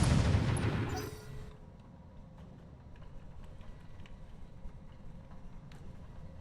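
Units fire their guns in a video game: a loud burst of gunfire at the start, then quieter, scattered pops and crackles over a low rumble, with no talking.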